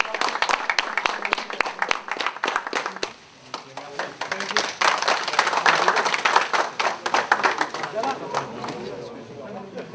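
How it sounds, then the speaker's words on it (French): People at an MMA training seminar applaud fighter Gegard Mousasi, scattered sharp claps that dip briefly and then pick up again into a livelier round, with voices mixed in. "Je pense qu'on peut applaudir GEGARD parce que c'est un gars comme ça."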